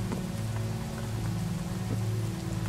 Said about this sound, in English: Got a little rain.